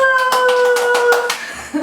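A short burst of clapping by a few people, mixed with a sustained tone and some chatter, fading out near the end.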